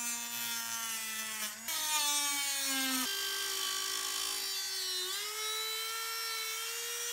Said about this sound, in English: I used this here cutoff wheel.